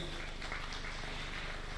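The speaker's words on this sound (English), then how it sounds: "A round of applause to our chief guests." Audience applause for chief guests at an international heart disease conference in Zanzibar, a steady dense wash of clapping throughout, moderately loud with a faint hum underneath.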